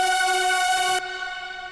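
A bright, sustained hardstyle supersaw synth lead chord with buzzy, layered saw texture, held steadily and then thinning out slightly near the end, with no voices.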